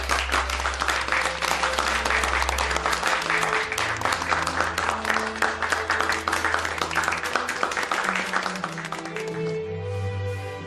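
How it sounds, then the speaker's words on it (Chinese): Audience applause at a hospital meeting rises as sustained, dense clapping from many hands for about nine seconds, then thins as soft music tones come in at the end. "在这里，我想大家应该对他们报以掌声"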